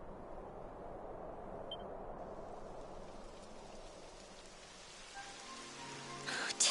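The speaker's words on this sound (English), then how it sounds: "Typical. It would have to go and start raining, wouldn't it?" Steady rain falls in the video game Dragon Quest XI S, a soft continuous hiss of drops on a surface that holds for several seconds, with a faint beep and a brief louder clatter near the end.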